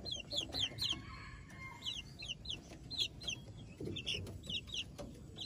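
Hybrid F1 jungle fowl hens clucking inside a cage, with short repeated cackling calls in uneven bursts over a steady, busy background murmur.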